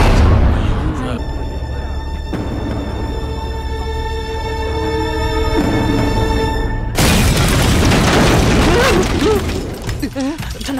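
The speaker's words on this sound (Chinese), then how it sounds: "那边爆炸了！" An explosion in an anti-Japanese war film breaks in as a loud, sudden broadband blast after a stretch of sustained tonal music, then rumbles and crackles before fading.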